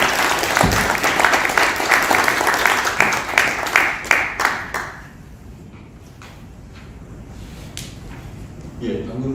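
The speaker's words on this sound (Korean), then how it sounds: "박수 한번 힘차게." Seminar audience claps firmly for about five seconds, the applause thinning into scattered claps and fading, with a voice faintly present near the end.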